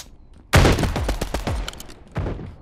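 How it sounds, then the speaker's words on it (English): Rapid gunfire bursts out in the Mini Royale video game, a loud close volley of repeated shots that trails off and then returns with a second short burst. "I'd rather just shoot with the gun."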